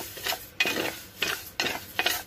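Ragi flour being dry-roasted in a heavy-bottomed pan, with a spoon scraping and stirring in repeated rhythmic strokes against the metal, close and moderately loud, about four sweeps in quick succession without talk.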